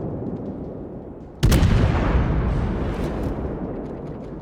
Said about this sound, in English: And one shot right through the conning tower.